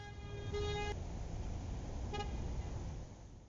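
Car horns honk in road traffic, two separate toots, the first longer and the second short, over a steady roar of passing cars.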